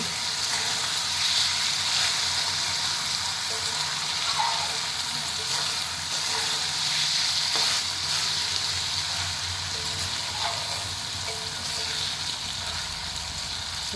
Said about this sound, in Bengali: তো এবার এখন বেশি করে নাড়তে হচ্ছে, কেন নাহলে কড়াতে নিচে লেগে যাবে।